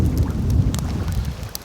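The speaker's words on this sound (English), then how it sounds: "Sun went away, it started to rain." Rain falls on a windy beach campsite, a dense close patter with low rumbling gusts and scattered sharp drops striking a surface.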